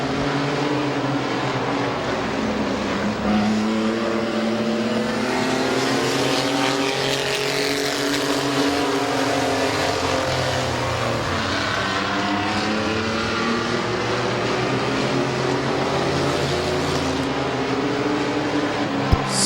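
Race cars roar continuously around the oval at Midvale Speedway, engine notes rising and falling as the pack passes, loud and sustained throughout with a faint commentator voice beneath.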